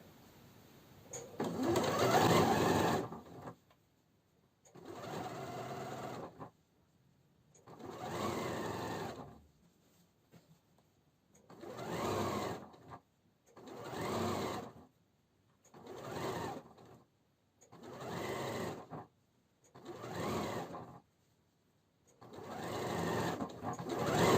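A sewing machine stitching straps for women's trousers runs in about ten separate bursts, each a steady close whirring hum lasting one to three seconds, with brief silent pauses between runs.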